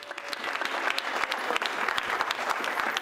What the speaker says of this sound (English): So big hand of applause for all of them.